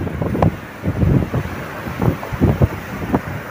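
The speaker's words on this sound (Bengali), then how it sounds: "আর দেখেন তুফান," Strong storm wind during heavy rain in Qatar, gusting against the microphone in uneven buffeting bursts close up, with no voices.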